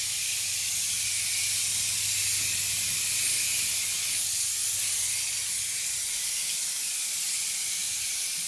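Spray gun laying Evercoat gelcoat onto a 1966 Corvette outdoors, a steady unbroken hiss of spraying that stays even and fairly loud throughout, with no talking.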